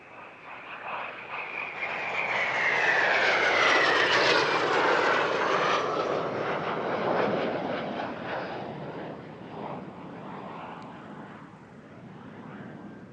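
Aerobatic solo display jets make a final opposition pass at the Air Legend 2023 airshow, their engine roar swelling loud with a falling whine as they cross overhead, then fading away into distance.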